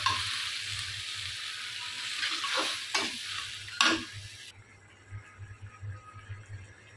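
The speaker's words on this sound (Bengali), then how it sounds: "আমার শুটকি আর আলু 2টা একসাথে কিন্তু কষানি হয়ে গেছে" Dried fish (shutki) and potatoes sautéing together in a pan, a steady close sizzle broken by a few sharp scraping stirs, then quieter frying with small pops, no talk.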